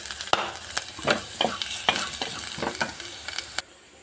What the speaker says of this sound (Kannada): ಆಯಿಲಾಗೆ ಫ್ರೈ ಮಾಡ್ಕೋಬೇಕು